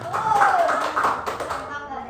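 A classroom of children claps hands together in a short burst while voices continue to speak over it, with a teacher's and kids' speech mixed in.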